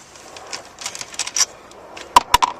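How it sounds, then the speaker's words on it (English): A 10mm socket wrench turning out the left mounting screw of a 2007-2013 Toyota Tundra factory radio, heard as light scattered ratchet clicks followed by a few sharp, close metallic ticks, with no speech. "Next we're going to take our 10mm and remove the left mounting screw"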